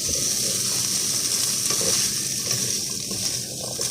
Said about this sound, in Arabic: ما ابغاه يدبل، ابغاه بس ياخد تشويحة مرة خفيفة